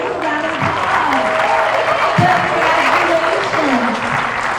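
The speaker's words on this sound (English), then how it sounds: "let's give our third graders a round of applause" Close, dense applause fills a school character education assembly for pre-K to third grade, steady throughout, with children's voices and cheers mixed into the clapping.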